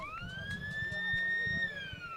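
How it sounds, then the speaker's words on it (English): A siren sounds to start a country football match between Kapunda and Tanunda, a long steady wailing tone held over the background murmur of the ground, faint and somewhat distant. "Siren goes to start this game."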